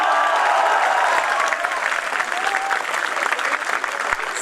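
A crowd at a Hindi poetry recital, a kavi sammelan, breaks into loud, sustained applause, dense clapping close and full throughout, with scattered bright cheers rising through it.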